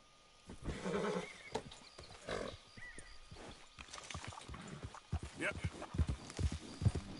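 Horse hooves clip-clop in Red Dead Redemption 2, a run of close hoofbeats with snorts and a whinny, while a person talks casually over the game sounds.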